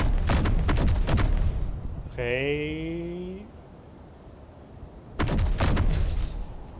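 Auto cannons firing in the game Space Engineers during its warfare update: bursts of heavy, rapid booming shots at the start and again near the end, with a brief spoken word and a rising tonal whine between them.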